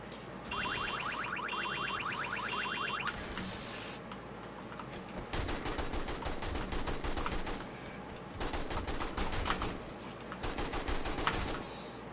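Automatic gunfire in the video game 7 Days to Die, with rapid bursts of shots followed by longer sustained volleys of loud, dense firing, close and steady across the stretch with brief gaps between bursts.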